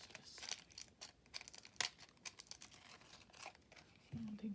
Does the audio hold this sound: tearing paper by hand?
yes